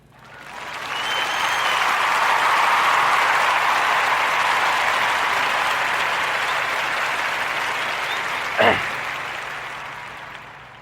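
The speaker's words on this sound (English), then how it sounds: "join me into giving this sister a warm narrative podcast round of applause" Sustained, dense applause from a crowd during a podcast, a warm round that rises quickly, holds steady for several seconds, then tapers off, with one sharp knock near the end.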